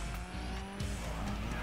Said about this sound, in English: as you can see, that is a drift